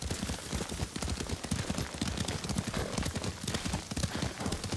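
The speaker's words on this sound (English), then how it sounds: "Lord Sakai taught me to ride a horse" Rapid, rhythmic clip-clop of horse hooves at a steady gallop in the video game Ghost of Tsushima Director's Cut, loud and close, continuing throughout with a brief whinny mixed in.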